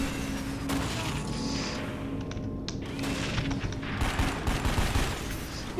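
A turret fires in the action game Dark Sector, with dense, continuous gunfire and booms rumbling under game noise throughout.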